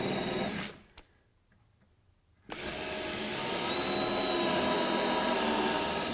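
A power drill drives a screw into the wood of a homemade planter box. It whines steadily and close up, stops for about two seconds, then runs again at a steady, slightly rising drone.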